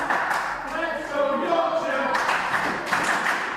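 A wrestling video game crowd cheers and claps in a dense, steady roar of massed voices, with a commentator-style voice talking over it.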